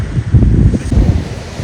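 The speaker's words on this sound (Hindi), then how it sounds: "तेज़ लहरें हैं" Strong sea waves rolling onto a beach, a loud, continuous low surf roar with surging swells and wind buffeting the microphone.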